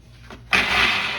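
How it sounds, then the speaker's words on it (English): A countertop kitchen blender switches on abruptly after a brief quiet moment, its motor settling into a steady, loud whirring roar. "I have my blender already on top of the counter. So I pretty much just use it."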